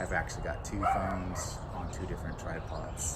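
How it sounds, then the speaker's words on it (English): A dog barks and yips in short bursts outdoors, moderately close, under someone talking over it. "Sorry about the dog."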